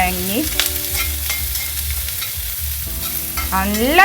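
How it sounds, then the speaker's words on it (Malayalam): Ginger, garlic, green chili and onion fry together in a pan, a loud, close sizzle broken by scraping stirs and occasional clinks, with no talking. "ഇഞ്ചി വെളുത്തുള്ളി, പച്ചമുളക്, ഉള്ളി എല്ലാം ഒന്നിച്ച് തന്നെ ഇടാം."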